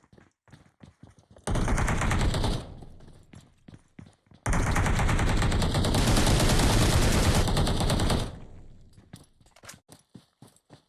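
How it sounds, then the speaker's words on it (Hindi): Gunfire in the mobile battle royale game BGMI during a tournament match, with two dense sustained bursts of rapid automatic fire, the second longer, surrounded by scattered sharp single shots and footsteps. "थोड़ी सी फायर मारते हुए"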